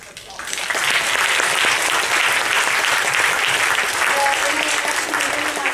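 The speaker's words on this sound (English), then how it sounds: "round of big applause." An audience applauds at the close of a university public lecture on world history and literature, a dense, steady roar of clapping that swells within the first second and holds.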